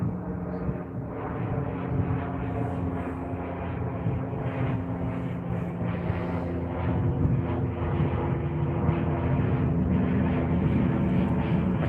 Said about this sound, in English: I can hear a turboprop. It sounds like a Dash 8 or something going over